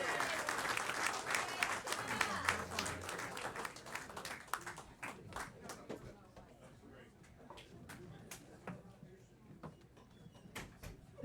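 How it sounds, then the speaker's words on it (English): Comedy club audience at the Kelly Center applauds a comic taking the stage: a loud wave of clapping that thins out after several seconds into scattered claps, with faint voices in the room. "Please, everybody, give a nice Kelly Center round of applause for Shawna Henry right now"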